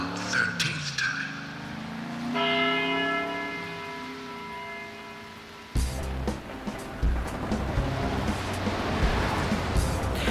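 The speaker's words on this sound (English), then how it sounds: "After the 12th time, the bell did not stop ringing. It rang a loud 13th time." Church bell tolling in the Deadly Premonition video game, a resonant ringing tone sustained for several seconds and then cut off by a sudden loud burst of noisy, rumbling sound.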